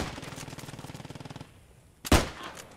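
Rapid machine gun fire rattles in a steady burst in a World War II video game, then stops before a single loud, close shot rings out and fades.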